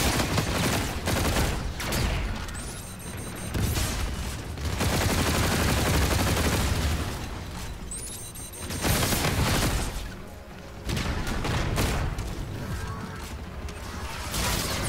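Sustained gunfire and mechanical clatter from the video game Call of Duty Infinite Warfare, coming in loud waves with brief lulls between dense bursts.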